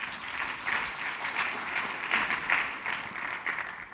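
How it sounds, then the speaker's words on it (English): Audience applause at a Bangkok business conference as a colleague is called on stage, a moderately quiet, steady wash of clapping from a sizable crowd that swells and dips slightly over several seconds. "Give him a round of applause"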